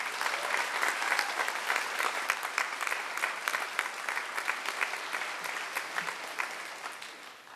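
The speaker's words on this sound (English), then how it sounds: "Please join me in giving them another round of applause." Audience at a high school spring band concert applauds, many hands clapping in a full, even wash with crisp individual claps popping out, sustained and fairly near before easing off at the end.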